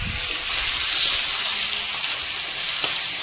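Fish fries in a pan with a steady, fairly quiet sizzling hiss that continues evenly throughout, with no talking over it.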